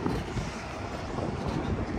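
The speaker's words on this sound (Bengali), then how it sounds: "বেশ ঠান্ডা হাওয়া দিচ্ছে," Cold wind blows across a microphone at Zojila Pass zero point, 11,649 feet, amid light snowfall, producing a steady, fairly loud rumbling buffet with no voices.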